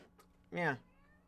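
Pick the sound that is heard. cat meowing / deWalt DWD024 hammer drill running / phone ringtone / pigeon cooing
cat meowing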